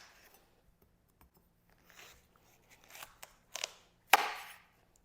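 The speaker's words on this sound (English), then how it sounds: "So we're gonna go ahead and cut it in half again." A knife cuts a watermelon half into quarters on a board: faint scrapes at first, then several louder crunching cuts building to a sharp, crisp crack near the end, in an otherwise quiet room.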